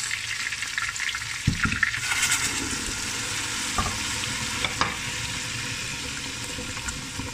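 Onions dropped into a hot pan for vegetable stew, sizzling steadily with a few sharp clicks and scrapes of stirring, moderately loud and close, no talk.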